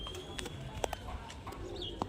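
Pigeons at a loft give soft, scattered cooing calls and a few brief chirps over faint background noise, fairly quiet and intermittent.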